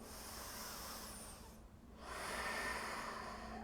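Slow, even breathing during a yoga flow, a soft, close exhale followed by a brief pause and then a fuller inhale, all quiet and alone.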